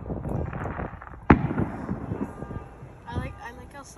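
Fireworks burst outdoors within view of mountains: one sharp, loud bang rings out early, followed by scattered, softer delayed pops and crackles, with people talking throughout.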